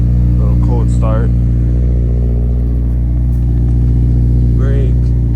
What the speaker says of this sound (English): A little cold start.